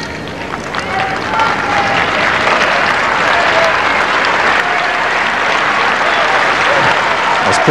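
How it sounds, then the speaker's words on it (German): A tennis crowd at the Indian Wells 2003 semifinal between Hewitt and Spadea claps steadily in sustained encouraging applause, loud and continuous for several seconds. "Das Publikum spricht dem Landsmann Spedier noch einmal etwas Mut zu durch Applaus."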